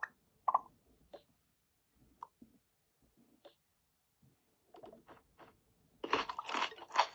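Crunchy eating sounds from the Toca World video game, with scattered soft crunches and bites followed by a louder burst of rapid crunching at the end.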